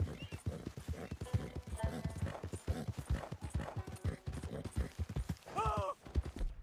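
Steady clip-clop of horse hooves in a quick rhythm in the video game Red Dead Redemption, with a horse whinnying near the end.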